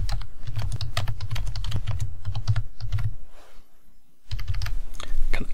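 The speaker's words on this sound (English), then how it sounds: "I could just type some text in there." Fast bursts of clicky key presses come from a computer keyboard as text is typed into a WordPress page block, with a brief pause partway before the typing resumes, close and clear with no talking.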